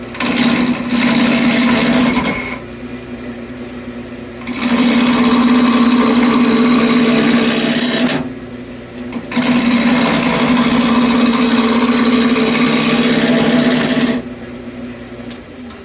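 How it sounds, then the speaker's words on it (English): A rotary tool fitted with a half-round gouge bit grinds the hard edges off a railroad spike tomahawk. Three long, loud bursts of steady whining abrasion are separated by short, quieter lulls, with no talking. "we're going to use this gouge bit. It's just kind of like a half round thing. And we're just going to take the hard edges off."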